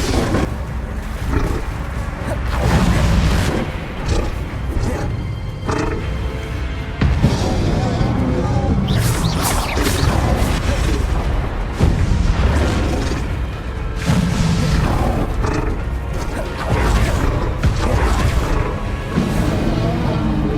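Bombarda blasting spells exploding during a boss fight in the Hogwarts Legacy video game: loud, continuous booming blasts and crashes layered over a dense, roaring battle din that never lets up.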